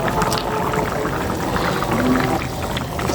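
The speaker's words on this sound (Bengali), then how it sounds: "এখন আমি মাছটা দিয়ে দিচ্ছি" Fried surma fish goes into a pan of curry cooked with elensha greens, bringing a wet splashing pour and bubbling of the liquid, loud and close over about three seconds with no talking.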